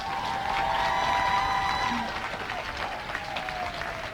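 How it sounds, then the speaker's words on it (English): Applause from a school assembly audience fills the hall steadily for several seconds, with a brief tonal sound over the clapping and the ovation easing slightly toward the end. "I just wanted us all to give a round of applause to our amazing heads of school"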